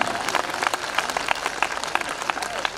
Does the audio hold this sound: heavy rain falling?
no